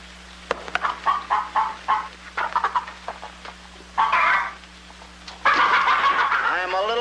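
Farm chickens cluck in short, choppy bursts, clustered in several quick runs with pauses between, mixed with people talking in a 1952 comedy film scene.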